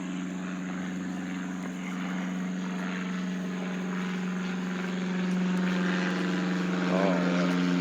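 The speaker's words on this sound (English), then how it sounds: "Another airplane." At an air show, a propeller airplane drones steadily overhead, its engine hum building slightly louder as it passes.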